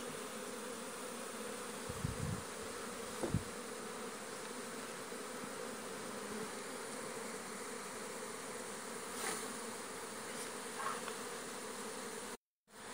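Swarm of bees being driven into a hive with smoke, a dense, even buzzing hum that runs continuously at low level, with a few brief knocks near the start and a cut just before the end.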